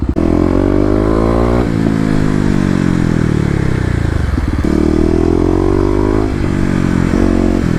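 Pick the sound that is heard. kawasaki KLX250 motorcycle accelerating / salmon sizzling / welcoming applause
kawasaki KLX250 motorcycle accelerating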